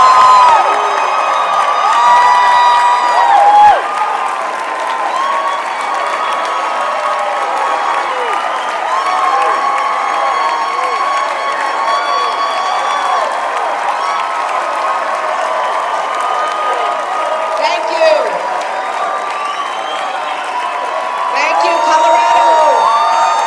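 A large crowd at a Colorado Democrats dinner applauds and cheers steadily as Hillary Clinton is welcomed, with whoops and shouts rising over sustained clapping.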